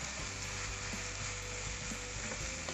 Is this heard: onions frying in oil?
yes